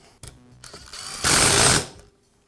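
A power tool or driver whirs briefly while bolts on a Karcher pressure washer pump are tightened. It gives a short mechanical buzz that swells loud for about a second, then cuts off, with faint clicks before it.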